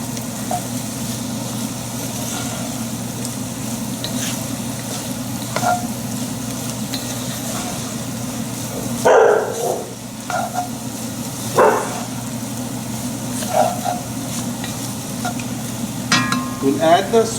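Seasoned vegetables for a vegetarian gumbo, with bay leaf, cayenne pepper and thyme, being stirred in a pot: a constant soft sizzle under periodic scraping strokes of the spoon, close and fairly loud.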